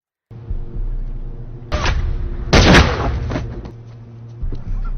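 A loud gunshot cracks out close by amid a burst of noisy impacts, with a rumbling engine-like drone continuing underneath.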